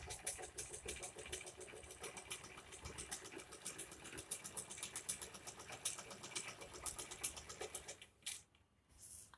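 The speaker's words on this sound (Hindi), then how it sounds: "हम यहाँ से फिटिंग की सिलाई लगाएंगे" A sewing machine stitching the fitting seam of a kurti gives a rapid, rhythmic clatter of needle strokes that runs steadily, then cuts out and briefly resumes near the end.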